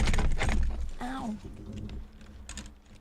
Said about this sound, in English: I just dropped my keyboard.